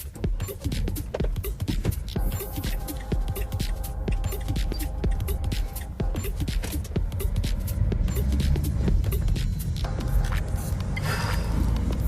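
An Opel Vivaro van with a 115 hp engine drives on asphalt on a hot day, its steady engine hum and road rumble running continuously throughout while a voice talks over it.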